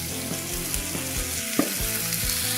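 A cauliflower pizza crust mixture sizzles and fries in a preheated cast iron skillet, a steady close crackle broken by a few soft knocks and one sharper tap.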